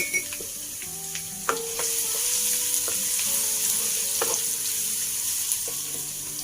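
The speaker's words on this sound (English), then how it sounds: "Stir fry the onions and garlic." Onions and garlic stir-frying in a pan for fried flat rice noodles, a loud continuous sizzle with occasional spatula clacks and scrapes, close up and without talk.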